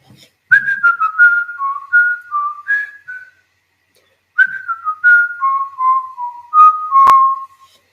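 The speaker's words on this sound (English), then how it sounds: "That's called whistling." A person whistles a short melody of sliding, bright notes, pauses for about a second, then whistles another similar phrase, close and clear.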